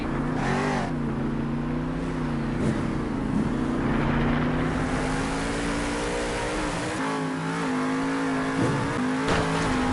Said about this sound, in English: She turns the truck back on.